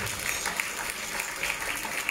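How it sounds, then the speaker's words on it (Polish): Audience applause for Tomek Organek at an art calendar vernissage, a steady, moderately loud patter of many hands clapping, even and unbroken across the short span. "Słuchajcie, wielkie brawa, Tomek Organek."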